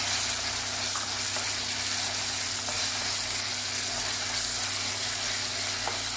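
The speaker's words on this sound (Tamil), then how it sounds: "இந்த வெங்காயம் தக்காளி வதங்கிட்டு இருக்கும்போதே நம்ம கொஞ்சம் புதினா போட்டுடலாம்" Onion, tomato and mint sautéing in hot oil for egg rice, a steady, dense sizzle with a constant low hum and occasional faint ticks, alone without voices.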